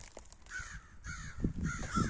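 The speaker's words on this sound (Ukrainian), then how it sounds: "ворони розкаркались, бо ранком і їх турбують" Several crows caw in a rural garden in the morning, harsh repeated calls arriving in three bursts over low background rustling, with no speech.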